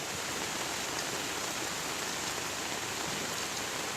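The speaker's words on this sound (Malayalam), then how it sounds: "നല്ല രീതിയിൽ മഴ പെയ്ത്" Heavy Kerala monsoon rain pours steadily, a dense even hiss that fills the whole clip with no pauses and no voices.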